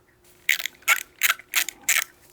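A ratchet tightens the top strut mount nut on a 2017-2024 Audi A4 B9 front shock absorber, making five evenly spaced bursts of close metallic clicking with no talk.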